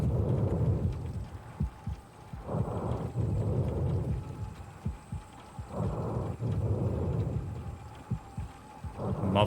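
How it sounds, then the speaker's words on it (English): Heavy heartbeat sound effect in the horror video game Silent Hill 2, slow deep thumps repeating in pairs under a dark rumbling ambience, loud and alone with no talk. "Oh, it's like a heartbeat."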